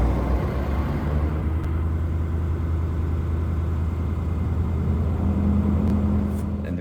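A Ford F-250 Super Duty diesel truck sits parked at high idle, its engine giving a steady, close, low rumbling drone that holds even throughout, with no one speaking.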